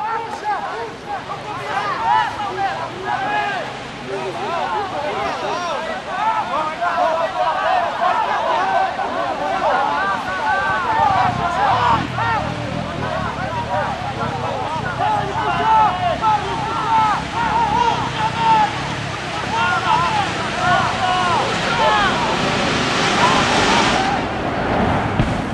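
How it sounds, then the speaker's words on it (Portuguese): Strong wind roars and buffets the microphone outdoors at a hot air balloon launch for a 32-metre modelled balloon, a continuous loud rush with people talking throughout. "Vento muito forte, pessoal."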